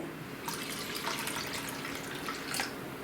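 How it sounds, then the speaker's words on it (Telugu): Water is poured into a bowl of tamarind juice mixed with peanut powder, making a soft, steady splashing trickle close by, fairly quiet and continuous for a few seconds with no talk. "దీంట్లో మనం ఇప్పుడు సరిపడా నీళ్లు పోసుకోవాలి"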